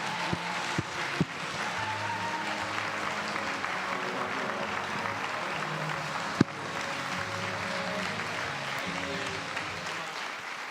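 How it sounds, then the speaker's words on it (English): A crowd gives a standing ovation for speaker Marcus Pearce, with a continuous wash of clapping and a few sharp thumps, plus some cheering and voices mixed in beneath. "round of applause, standing ovation for Marcus Pearce."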